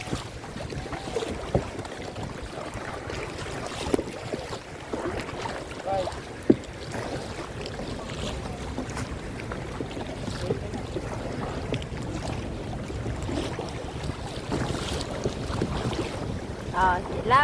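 Boat ride across rough, wavy sea during an island hopping tour in Palawan, with steady engine and wind rumble, water slaps and occasional bumps running throughout, faint voices underneath.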